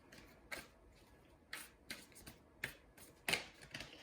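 Tarot cards being shuffled by hand, a few separate soft riffling bursts spaced about a second apart over a faint background, with no talking.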